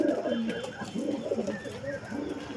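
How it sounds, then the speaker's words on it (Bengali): Domestic pigeons cooing steadily in a rooftop coop as they return one by one to be fed, with overlapping low throaty coos continuing throughout. "দেখতে পাচ্ছ এই সাইড আমাদের পায়রাগুলো এক এক করে খুবই ঢুকতে শুরু করে দিয়েছে"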